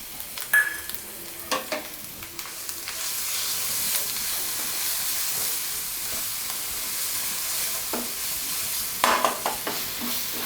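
Mustard seeds, cumin, asafoetida, curry leaves and ginger-chilli paste fry in hot oil, a steady close sizzle and hiss with scattered spoon scrapes and taps against the pan.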